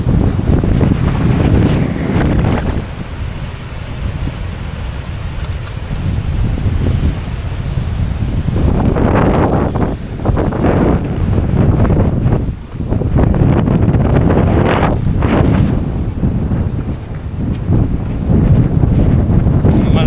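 Strong wind buffets the microphone on an exposed mountain trail during a 42 km trail race, roaring in heavy gusts that rise and fall throughout, with a few brief lulls.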